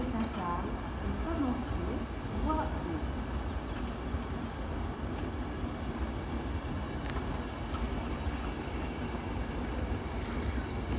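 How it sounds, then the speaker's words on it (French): A long Trenitalia passenger train rumbles past Aubagne station steadily at moderate distance, a continuous low roar with faint rattling and no break across its length. "C'est un long train de Trenitalia."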